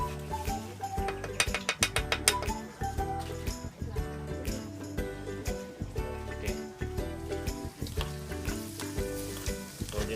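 Food frying until golden brown on a stove for a Filipino boodle fight, giving a steady loud sizzle with clattering stirring and scraping mixed throughout.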